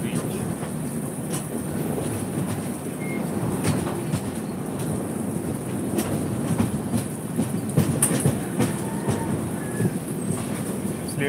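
A passenger train runs slowly on its rails on the approach to Chennai, giving a steady rumbling clatter with irregular wheel clicks and faint metallic squeaks, close and continuous.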